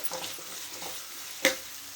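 Onions and dried red chilies fry in hot oil in a pan, giving a soft continuous sizzle with faint stirring scrapes and one sharp clink partway through.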